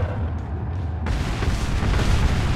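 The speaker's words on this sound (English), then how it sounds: "Oh, there we go. Flashbang." A flashbang grenade in Resident Evil 4 goes off with a sudden loud burst about a second in, then a sustained roaring wash of noise through the rest.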